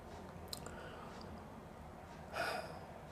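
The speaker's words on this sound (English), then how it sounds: "Excuse me for sniffing." A single short, sharp sniff from someone eating spicy pizza loaded with extra peppers, heard near the end of an otherwise quiet, close-up stretch.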